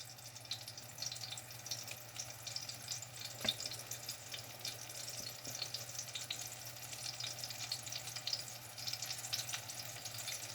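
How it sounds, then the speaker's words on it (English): Apple fritters fry in hot butter and olive oil, giving a steady, fairly quiet sizzle and crackle with a faint low hum underneath and occasional soft pops, without any talk. "Just put them in your hot grease or whatever you're using."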